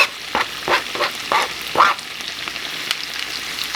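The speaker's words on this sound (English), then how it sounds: "once your butter is melted down, go ahead and add your garlic and your parsley" Garlic, parsley and chopped jalapenos sizzle in melted butter in a pan, a steady frying hiss broken by several sharp spatters and stirring bursts, close and fairly loud with no talk.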